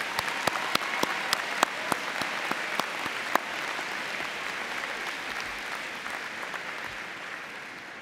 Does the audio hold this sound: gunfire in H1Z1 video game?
no